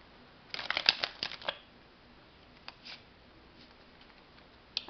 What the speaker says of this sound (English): I'm going to shuffle the deck too.